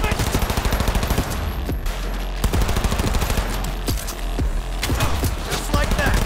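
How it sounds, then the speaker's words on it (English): Rapid automatic gunfire in the video game Cyberpunk 2077, loud and continuous with dense bursts of shots, while a player shouts over the shooting. "Keep firing, goddammit!"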